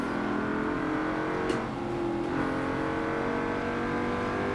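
A Pontiac Trans Am race car runs in Forza Motorsport 7, its engine droning at high, steady revs with a brief blip partway through, loud and close under no talk.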